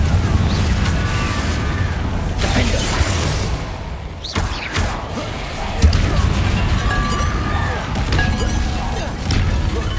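Repeated Confringo blasting spells fired during combat in Hogwarts Legacy, loud crashing impacts and whooshing bursts over a dense battle soundscape, with a sharp hit near the middle and another toward the end.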